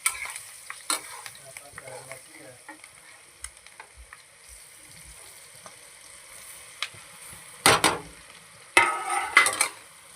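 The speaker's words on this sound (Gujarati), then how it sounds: "અને હવે આપણે પાત્રા નાખી દઈશું વઘારવા." Patra, rolled colocasia leaves, go into hot tempering oil with chillies and get stirred. Quiet crackles come first, then loud bursts of sizzling and spoon scraping that build near the end.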